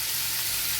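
Pumpkin and tomato dropped into a hot pan for masala chana dal, giving a brief, steady, close sizzle with a bright hiss.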